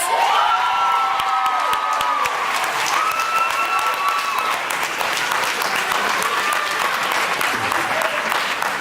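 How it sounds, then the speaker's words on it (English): Sustained applause from a crowd at a graduation ceremony, loud and continuous, with scattered cheers, whoops and children's shouts mixed in, as a tone or microphone ring fades early on. "So please give a round of applause for Vanessa Massas, mother of Jeremy Solis"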